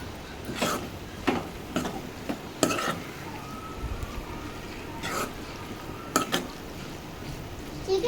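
A spoon stirs aloo tomato curry in a pan after garam masala and coriander leaves go in. Sparse scraping and clinking strokes come at irregular intervals over a low background hiss.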